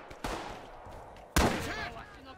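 A frag grenade detonates in the Rising Storm World War II shooter, a sharp broadband blast followed by a second, louder burst amid ongoing gunfire, with a player's voice talking over the noise.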